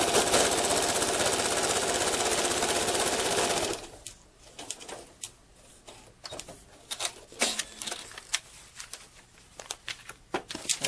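A sewing machine stitches down fabric pieces for a modern stained-glass quilt block in a steady, loud, close whirring run of nearly four seconds, then stops, leaving light handling clicks and rustles.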